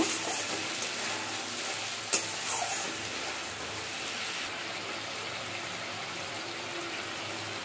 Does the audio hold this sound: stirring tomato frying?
yes